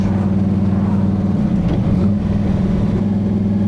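A Plymouth Road Runner V8 cruising at 35 mph in third gear, a loud, steady low burble with a deep even rumble and a slight wobble in pitch, heard from inside with no talk.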